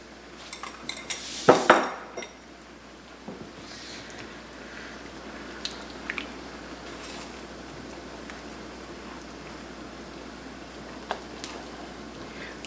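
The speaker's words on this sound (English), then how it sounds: "And continue to beat that. I'm tempering my egg so it doesn't curdle." An egg is beaten with a utensil against a dish while being tempered into a creamy chicken à la king sauce mix. A burst of clinking comes near the start, then softer intermittent taps and scrapes over a quiet background, no voices.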